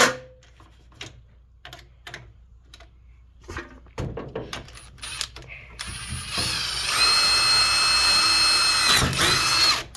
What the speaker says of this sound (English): Have to drill it and put the clips in it.